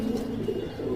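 Young Allahabad Kaldom pigeon chicks give soft, low cooing and murmuring calls in a steady, close, continuous stream with no talk.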